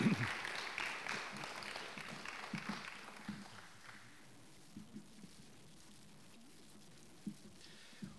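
An audience at a Social Work Day 2024 event applauds a colleague, with a burst of clapping that fades after a few seconds, followed by quieter scattered sounds.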